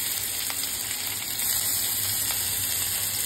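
Onions hit hot oil in a home kitchen pan, giving a steady broadband sizzle and crackle that swells louder partway through and continues without talk.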